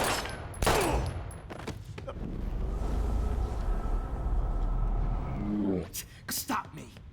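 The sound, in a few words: gunfire in the video game Life Is Strange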